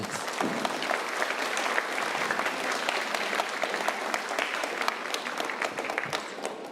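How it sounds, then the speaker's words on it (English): Steady audience applause fills a robotics competition hall at an FTC challenge, a dense, even wash of many hands clapping at moderate distance without a break. "Let's give them a big round of applause."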